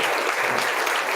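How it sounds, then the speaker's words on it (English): An audience applauds the teachers, a brief burst of dense, steady hand-clapping that fills the whole moment with no voices over it. "I want to have a big round of applause just for the teachers from the back benches."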